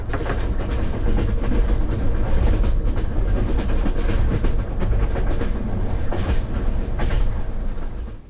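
A CFR Romanian sleeper train running on rails at night, with a dense steady rumble and rhythmic clickety-clack of wheels over joints, close and continuous throughout.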